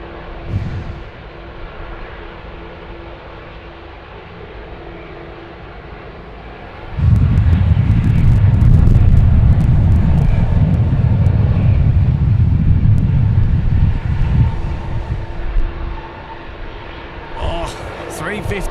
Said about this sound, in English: A350 getting off the big kicker there.